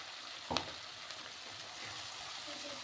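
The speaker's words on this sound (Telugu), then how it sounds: "అల్లం కూడా పచ్చివాసం పోయేంత వరకు ఫ్రై చేస్తాం" Ginger garlic paste frying in a pan makes a soft, steady sizzle with faint crackles and one brief sharp clink near the start.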